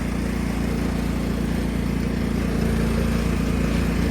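A 1999 Cub Cadet HDS 2135 riding lawnmower runs outdoors, its engine giving a steady, close, droning hum with a low throbbing idle that holds evenly throughout, with no talking.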